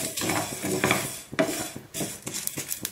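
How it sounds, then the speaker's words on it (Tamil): Pepper, cumin and urad dal dry roast in a pan, with stirring scrapes and clinks and light crackling pops in an uneven rhythm, close and fairly loud. "படப்படன்னு பொரியிற சத்தம் கேட்குது பாருங்கள்."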